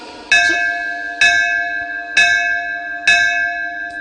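A single bell is struck four times at an even pace, each loud, clear ring sustaining and fading before the next strike.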